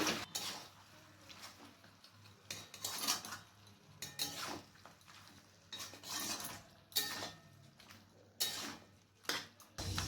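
Mutton with halved small tomatoes stirred in a pot, a spoon scraping and clinking against the metal in irregular bursts, fairly quiet and close.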